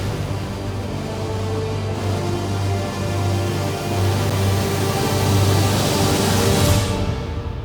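Dark, sustained orchestral score from the Deliver Us Mars story trailer plays without narration, a low droning bed with a slowly swelling texture that grows louder and brighter toward the end.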